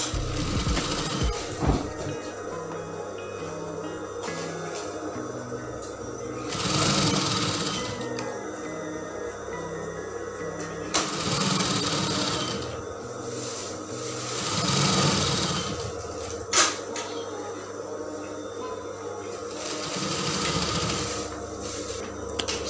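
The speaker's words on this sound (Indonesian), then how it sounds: "kita tindas di bagian lapisannya dengan lebar 1 jarum" A sewing machine runs in repeated bursts, topstitching the lining of a woman's blouse one needle-width from the seam, with short pauses and fabric handling between the steady mechanical runs.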